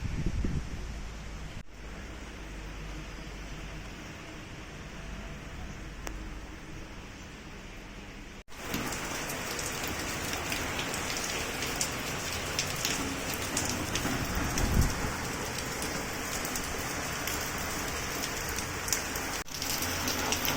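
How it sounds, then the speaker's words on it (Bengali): Heavy rain pours down steadily, growing noticeably louder and denser partway through, with a constant wash of drops hitting surfaces nearby. "দারুণ বৃষ্টি শুরু হয়ে গেছে"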